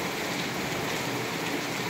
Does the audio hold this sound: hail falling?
yes